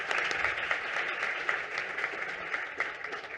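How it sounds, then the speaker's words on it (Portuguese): Audience at a tax seminar on oil and gas claps steadily in a short burst of applause, dense and even throughout with no talking over it. "Uma salva de palmas para aniversariante do dia."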